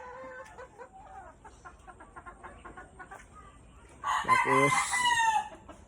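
Clements Gray gamefowl breeders in a backyard pen, soft clucking and calls at first, then a loud close rooster crow near the end, with a brief word spoken.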